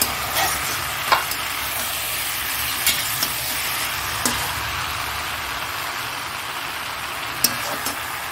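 Spices frying and being stirred in a hot pan, a steady loud sizzle broken by a few sharp clinks and scrapes of the utensil against the pan.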